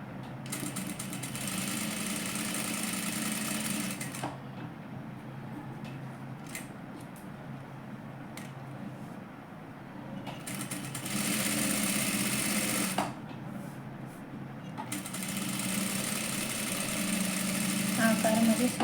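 A sewing machine stitches a katori blouse in several loud, fast-running bursts separated by quieter pauses, with a voice talking during the gaps.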